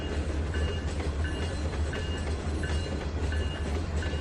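A train rolls past in Trainz 2019, heard from close behind as a continuous loud low rumble with rhythmic clickety-clack of wheels over rail joints and faint metallic squeals, no talking.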